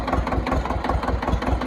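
A tractor engine runs steadily while driving, a continuous mid-low mechanical drone with a slight pulsing rhythm, close and fairly loud throughout.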